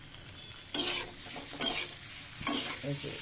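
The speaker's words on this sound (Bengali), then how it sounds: "এদিকে ডিমটা ভালো করে একটু ভেজে নিচ্ছি" Egg frying in a pan for a tomato and egg dal gives a low sizzle that jumps louder with three stirring bursts, each scrape and clatter close and distinct over the steady hiss.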